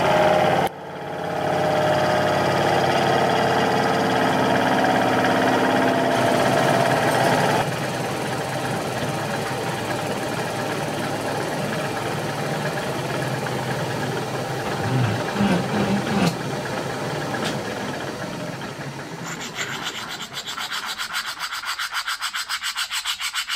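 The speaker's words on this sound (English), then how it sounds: "I'll put it in the grinder" A grinder machines a metal slide bolster to just over 14 mm, giving a continuous whirring, rubbing drone that shifts in level partway through and runs for over twenty seconds without speech.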